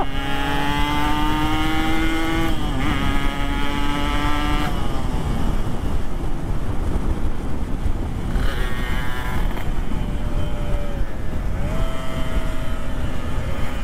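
A Yamaha RX King motorcycle engine runs at speed on a street, a buzzing tone that rises and falls with throttle changes under constant loud wind rush.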